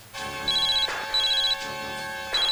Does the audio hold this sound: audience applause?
no